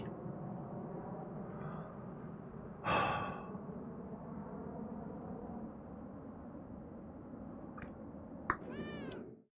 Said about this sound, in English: I'd heard a cat